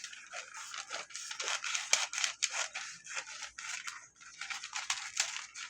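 Scissors or a blade snip and crunch through a strip while making apple bar loaves, a close run of irregular rasping cuts and crinkles with no talk.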